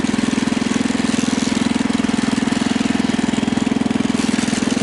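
A Husky 600 tractor engine runs steadily up close, a loud rhythmic chugging drone that holds an even pace throughout.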